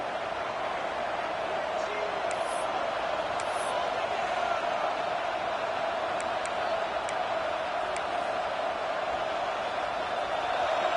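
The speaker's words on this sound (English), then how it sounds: "this crowd coming to life here, trying to help the defense get a stop with the offense pinned back" Football stadium crowd at Texas versus Arkansas rising to cheer for the defense, a steady, dense roar of many voices at constant loudness throughout, with a few faint whistles and shouts above it.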